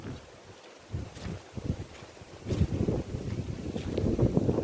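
Gusty wind buffeting the microphone in low rumbling bursts that grow stronger toward the end, over a faint steady background hiss.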